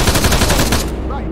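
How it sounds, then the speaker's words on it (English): Rapid, loud machine gun fire from a DCS World combat game, a dense continuous burst lasting about a second before cutting off, with a shouted voice mixed in. "Machine gun!"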